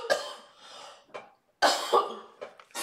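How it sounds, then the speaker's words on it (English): Several short coughs and throat-clearing sounds from a nearby person, in two clusters separated by a brief pause, close and moderately loud. "I might have a little cough."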